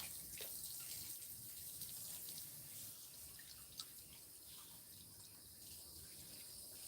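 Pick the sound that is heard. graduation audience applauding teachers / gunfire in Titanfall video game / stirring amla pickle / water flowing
water flowing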